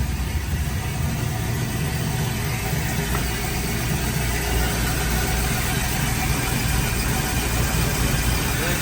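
Chevy LS3 V8 swapped into an old-school Chevy, idling with a steady, rumbling, even beat at close range, unchanging throughout.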